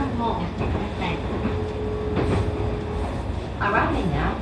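A JR Joban Line E531 series one-man train, set K476, runs between Tatsuta and Tomioka toward Haranomachi with a steady rolling rumble, a thin motor whine and occasional clatter, as faint voices sound in the background.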